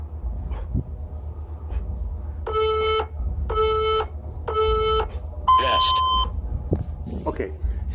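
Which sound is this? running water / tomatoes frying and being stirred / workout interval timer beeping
workout interval timer beeping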